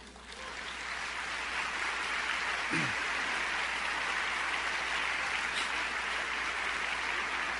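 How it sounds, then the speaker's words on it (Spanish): Congregation applause during a sermon, a dense, steady wash of clapping that swells in over the first second and holds evenly. It sounds rain-like, with a brief low thump partway through. "¿No le dan un aplauso al Señor?"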